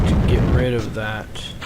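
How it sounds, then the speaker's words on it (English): Rocket boosters breaking apart under aerodynamic forces in Kerbal Space Program, a loud low booming rumble that fades over a second or two. "There go my boosters. Once again being destroyed by aerodynamic forces."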